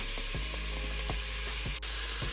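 Onion sizzles steadily in a hot pan as the base for a Bolognese meat sauce, with a constant frying hiss broken by a few soft stirring scrapes.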